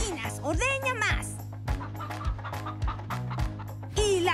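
Chickens cluck repeatedly in short, bright bursts within a cartoon musical number, mixed with singing and rhythmic backing music throughout.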